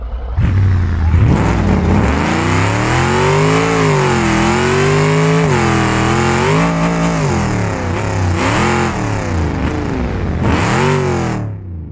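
A Porsche engine in the BeamNG.drive driving game revs loudly in repeated rising and falling sweeps, climbing to high pitch several times, close and continuous with no talk.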